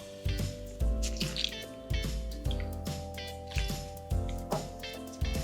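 Rinsed oiji, Korean pickled cucumbers, squeezed hard by hand to press the water out, giving repeated wet squishes and drips in a loose rhythm, close and fairly loud, with no voices.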